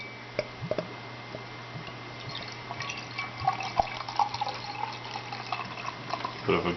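Scots pine ale, 7.5% ABV, pours from a bottle into a glass with a soft, steady liquid trickle and faint splashes and fizz against a hissy background, with no talking.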